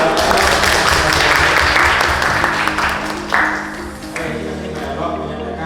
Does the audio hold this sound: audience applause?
yes